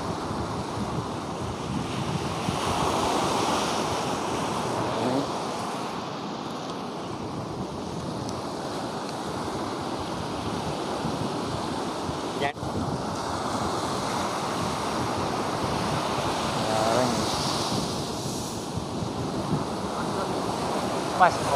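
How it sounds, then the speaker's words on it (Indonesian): Ocean surf at Hanoman beach rolls in steadily, a continuous loud wash of breaking waves with wind rumbling across the microphone and no pause throughout. "Mas, ombak."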